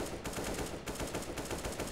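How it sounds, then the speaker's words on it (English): Gunfire in Counter-Strike: Global Offensive, a Desert Eagle shooting at an enemy through wood, dense rapid loud shots blasting nearly without pause. "I can't believe I was shooting him through that wood and he didn't move."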